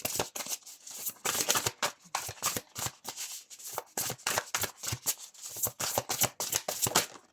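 Tarot cards shuffled repeatedly by hand, a dense run of crisp riffling slaps and flutters in quick irregular bursts, close and fairly soft, with no talking.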